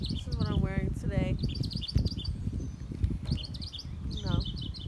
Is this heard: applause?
no